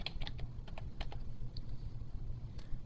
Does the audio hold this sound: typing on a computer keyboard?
yes